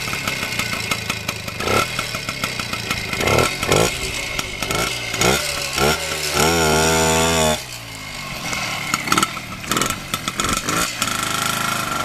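A Voskhod motorcycle set up for motocross is started and runs, its two-stroke engine giving a buzzing, rasping note with repeated throttle blips and revving that rises and falls, close and loud.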